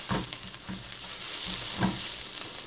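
Eggs with sriracha scrambled in a frying pan, a steady close sizzle with three rhythmic scraping stirs of a utensil against the pan.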